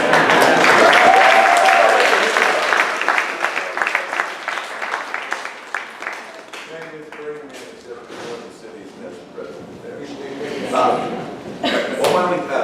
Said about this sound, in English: I got to give you a round of applause